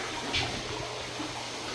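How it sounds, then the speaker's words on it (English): Water squeezed back into a tank during maintenance gives a soft, continuous splashing trickle, fairly quiet and steady, with one brief brighter splash early on. "Squeeze the water back into the tank"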